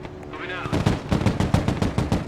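Rapid bursts of gunfire in the PC war game Broken Arrow, set in a Baltic conflict, crackle repeatedly in quick rhythm after a brief voice line, loud and close.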